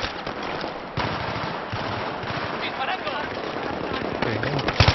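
Rapid automatic gunfire from a Battlefield 3 firefight keeps up a dense, loud crackle of shots for the whole stretch, with players talking over it.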